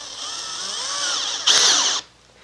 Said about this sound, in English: we must use a stepped drill bit so that we may stay centered in our hole